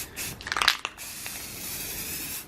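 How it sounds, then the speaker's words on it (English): A spray can lays a quick coat of paint on a steel part in short hissing bursts, strongest near the start, then fades into a quieter steady hiss. "So I decided I was just gonna do a quick coat of paint on this."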